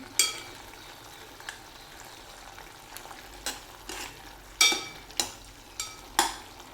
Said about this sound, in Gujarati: થોડા અજમા અને હિંગથી વઘાર કરવાનો